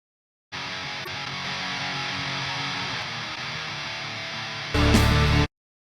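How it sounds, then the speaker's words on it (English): Dense, distorted black metal rhythm guitar tracks play back in a mix, a steady wall of saturated tremolo-style riffing that holds for several seconds, then grows louder and brighter in a short final burst before cutting off. "Guitars sounds like this."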